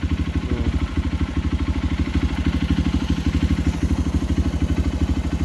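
A Honda XR150 motorcycle engine runs steadily nearby with a rapid, even thumping pulse and a mechanical clatter, loud and unbroken.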